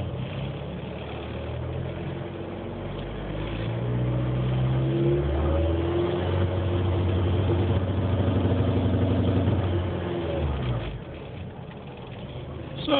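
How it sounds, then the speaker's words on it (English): A car engine with an MS2 setup and a transmission control fault revs and holds against a limiter near 3,000 RPM, rising from a low idle into a loud, steady buzzing drone and then dropping back. "I get basically a kind of like a rev limiter."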